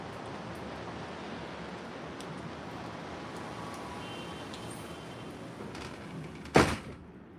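A door closing in a high-rise apartment during a storm: steady rain noise for several seconds, then a single sharp close thud near the end, followed by sudden quiet.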